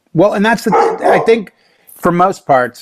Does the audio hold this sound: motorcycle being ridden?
no